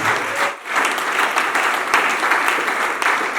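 A church congregation bursts into sustained applause and cheering at a worship service, with dense clapping that briefly dips and then continues loud and steady throughout.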